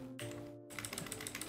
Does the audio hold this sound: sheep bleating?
no